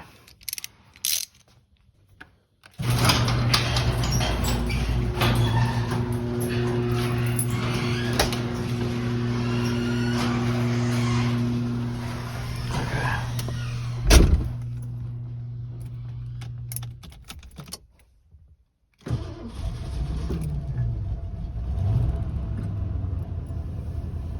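A Lincoln Continental Mark VI engine with low compression cranks and catches, then settles into a steady rumbling idle with mechanical clatter; it cuts off and restarts briefly near the end.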